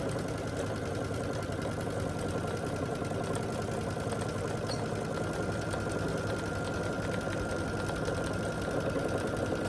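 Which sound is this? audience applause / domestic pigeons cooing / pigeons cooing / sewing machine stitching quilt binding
sewing machine stitching quilt binding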